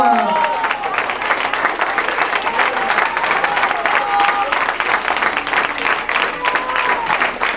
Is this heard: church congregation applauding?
yes